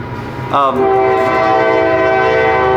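A train horn blares loudly and holds a long sustained tone over the rumble of a passing train.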